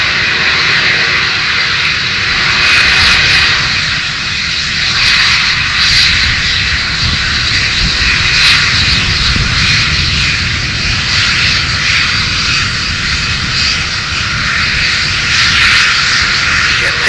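Atlasjet Airbus A320 jet airliner taking off from runway 24 left, a loud sustained engine roar with broad rushing whine holding steady and close throughout.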